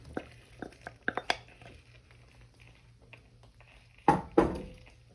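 Sautéed vegetables go back into a pan of sweet and sour chicken with a few quick spoon clinks and taps, then two louder scraping, tumbling bursts as they are tipped in and stirred, close by, with quiet gaps between.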